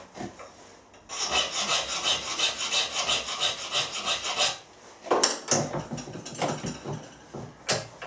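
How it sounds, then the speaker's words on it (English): A hand file rasps across the sharp corners of a machined metal part, deburring the edges instead of chamfering on a milling machine. Quick, rhythmic strokes run continuously for several seconds, pause briefly, then resume in shorter, separated passes, all close and clear. "A lot of people forget you can use a file for simple operations like that."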